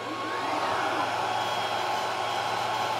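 A 40W laser engraver runs a power scale grid on 1/8 inch plywood, giving a steady, even airy whir like a blower, constant and close for the whole stretch.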